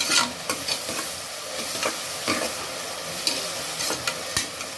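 Onions frying in coconut oil for a paneer pulav, a continuous crackling sizzle with regular scraping clicks of a ladle stirring the pan, close and steady with no voices.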